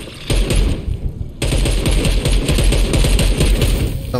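Rapid automatic gunfire in the video game Dead Island 2, loud and close, with dense rattling bursts after a brief pause and sustained through the rest.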